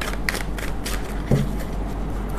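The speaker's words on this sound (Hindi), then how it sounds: "इसे हम तीन बार शफल करके रखते हैं" A deck of tarot cards is shuffled up close in a few short riffling bursts over a quiet background.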